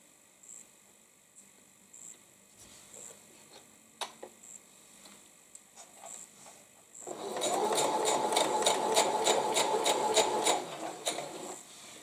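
A sewing machine stitching quilt pieces: quiet clicks and handling at first, then a steady rapid mechanical chatter of the needle running close by for several seconds before slowing.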